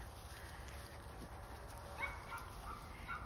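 F1B mini and medium Sheepadoodle puppies give faint, scattered yips and whimpers over a steady background hiss, with a few brief higher cries near the end.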